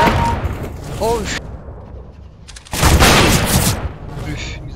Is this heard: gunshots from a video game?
yes